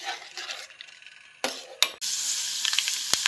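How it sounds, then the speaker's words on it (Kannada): Tempering of garlic, mustard seeds, dried chillies and curry leaves crackles in hot coconut oil, with a few sharp bursts of noise before a loud, steady sizzle takes over and runs to the end, with small pops on top. "ಒಂದು ಒಗ್ಗರಣೆ ರೆಡಿ ಮಾಡುವ."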